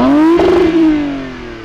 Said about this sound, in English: those exhaust tips look amazing and actually sound pretty good